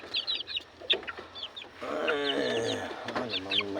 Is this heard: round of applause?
no